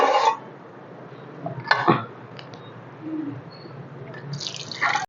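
Water splashing and dripping as a spoon and a pot lid are rinsed clean of dirt, short intermittent bursts of running water with quiet gaps between, close by.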